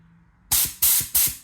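A Stanley compressor's spray nozzle fires three loud, close bursts of hissing air in quick succession, each cut off sharply, after a quiet lead-in.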